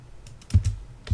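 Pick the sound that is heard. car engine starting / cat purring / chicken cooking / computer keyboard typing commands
computer keyboard typing commands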